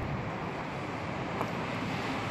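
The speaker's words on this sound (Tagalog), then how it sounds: "Lakas ng hangin." Strong typhoon wind in South Korea roars steadily with a constant broadband rush buffeting the microphone, with no talking.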